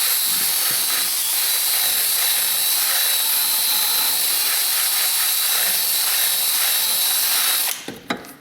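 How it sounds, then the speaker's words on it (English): A small rotary file spins steadily, grinding rust out of the wheel hub spindle of a Dodge Stratus, a loud continuous high whine that cuts off abruptly near the end. "I'm just going to use a little rotary file, clean all this rust and stuff out of the hub here,"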